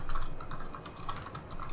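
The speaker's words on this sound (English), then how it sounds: "Oh no! I was typing!" Rapid clicking keystrokes on a computer keyboard, a quick steady patter of taps heard close and alone during a World of Warships match.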